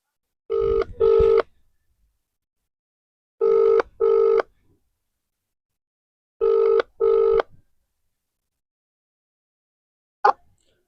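A phone call being placed: three evenly spaced double-beep ringback tones sound in an otherwise silent line, followed by a brief click as the call connects.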